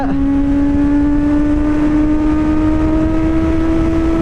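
Suzuki GSX S750 motorcycle engine held at high rpm near 8,000-9,000, a loud, steady, sustained wail with pitch gradually climbing, close and continuous with no talk.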